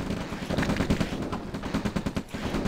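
Chaotic battle in Command & Conquer Red Alert as a tank rushes through enemy troops, with dense overlapping gunfire and explosive bursts, loud and continuous with no talking.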